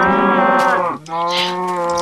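A Minecraft cow gives two loud, close moos back to back, each a long droning low call with a brief gap between them and no talking.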